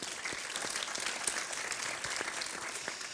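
Audience at a blue innovation event applauding the organising teams, a moderately distant, even patter of many hands clapping at steady volume without speech.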